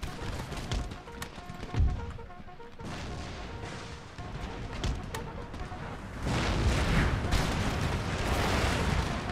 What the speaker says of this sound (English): Oh wow, our cannon just ripped through that unit there.